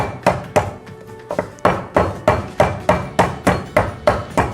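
A dozen or so sharp, hollow thwacks of a knife's spine crushing the ends of lemongrass stalks against a board, struck in a quick, steady rhythm, close by.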